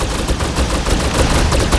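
Rapid gunfire from the video game Snowbreak: Containment Zone rattles on without a break, a dense, loud stream of shots with no clear gaps between bursts.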